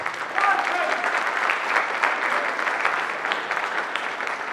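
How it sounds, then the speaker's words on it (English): Sustained applause from a crowd at the 2018 All-Ireland Softball Men's Doubles handball final, steady clapping throughout with a few louder bursts, fairly close and full. "one last round of applause to champions from Meath, Eoin, McConnell and Browne."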